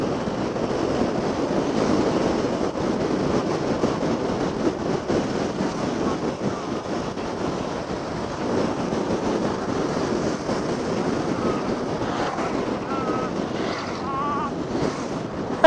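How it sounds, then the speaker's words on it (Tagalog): Strong wind blows steadily, roaring in a dense broadband rush that buffets close to the microphone throughout, with no clear pause. "Mahangin lang, mahangin lang."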